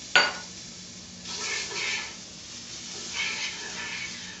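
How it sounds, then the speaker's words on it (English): Garlic hits a hot pan with a sharp clink, then sizzles softly as a utensil stirs it in a few scraping passes, fairly quiet and close with no talking. "we're going to throw our garlic in here and give it a quick stir"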